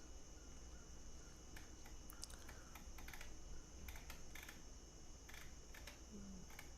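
Quick, uneven keystrokes tapped on a computer keyboard while a search is entered in a cartography lab, light clicks scattered over a steady quiet room hum with no voices.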